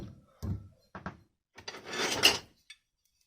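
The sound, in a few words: handling an old rasp file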